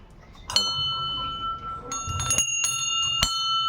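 A hand bell at a Mahadev temple during a Bhaiduj visit is struck several times, sharp clangs ringing out with a lingering metallic tone between irregular strikes amid faint crowd background.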